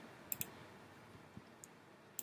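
A computer mouse clicks a few times during network configuration work, sharp isolated double clicks near the start and end with a couple of softer single clicks between, close and quiet with no talking.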